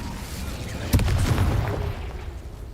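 A fire spell blast from the Hogwarts Legacy video game: a sudden booming burst that rolls into a crackling, fading rumble over a few seconds.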